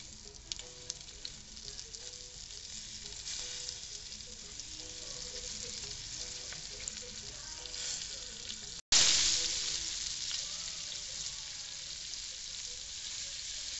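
Liver fries gently in a pan with a soft, continuous sizzle and faint crackles, followed by a sudden louder hiss that slowly fades.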